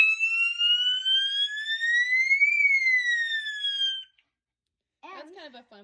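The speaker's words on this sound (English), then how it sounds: "time for the depth sounder is what I call it, or the Flexion siren" A Flexion electronic fire alarm siren wails loud and alone in a rising then falling sweep for about four seconds, then stops; after a short silence a voice speaks.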